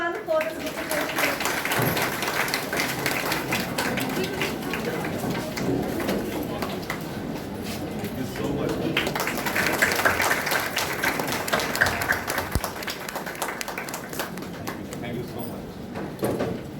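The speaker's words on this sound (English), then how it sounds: "Let us applaud everyone for this bouquet." An audience claps during a bouquet presentation to the guest of honour at a school function. The steady, dense applause lasts throughout, with voices talking over it.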